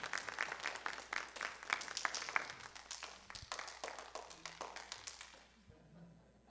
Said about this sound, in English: Again, give her a round of applause.